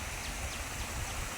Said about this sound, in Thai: ตรงนี้เนาะน้ำไหลเวียน